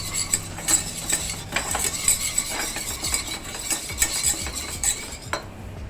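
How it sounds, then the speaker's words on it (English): A whisk stirs barbecue sauce ingredients, including tomato ketchup and spice powder, in a bowl for a spicy Jamaican barbecue sauce, giving a steady run of quick scraping and clinking strokes close by, with no talk. "Now I'll use a whisk and just mix everything together."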